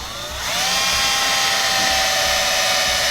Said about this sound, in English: I'm going to drill a hole here so that it can come in from behind